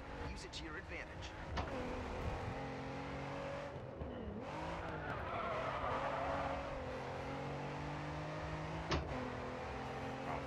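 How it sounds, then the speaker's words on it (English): A race car in the video game Grid 2 drifts through corners, its engine revving and whining while tires squeal in sustained bursts, with someone talking over the action. "This car will have a tendency to drift through the corners."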